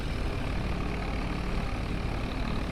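A Massey Ferguson 2135 industrial tractor engine, the US industrial version of the 135, in Farming Simulator 22, runs at a steady low rumbling idle, close and even throughout with no talk.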